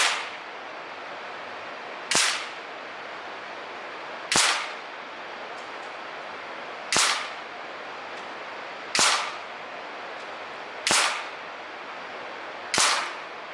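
Seven sharp shots from a Daystate AirWolf MCT air rifle ring out at steady intervals of about two seconds, each a crisp crack that decays quickly over a quiet background hiss, with no talk.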